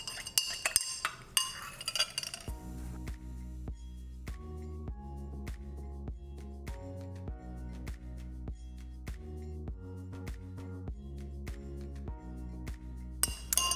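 A spoon clinks and scrapes in a container as a homemade hair moisturizer mixture is stirred, with rhythmic light taps and rings that are close and fairly quiet, and a brief rustle at the start and end.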